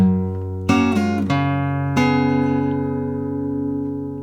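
Fingerpicked acoustic guitar phrase from a song: a few plucked notes and chords ringing out clearly and close, sustaining and fading alone.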